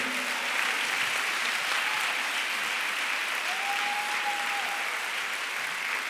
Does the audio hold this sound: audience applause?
yes